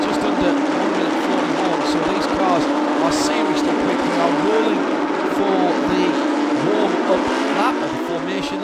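Porsche Carrera Cup race cars rolling out on track, a continuous high engine drone under a commentator's running talk, with a few faint tire squeals.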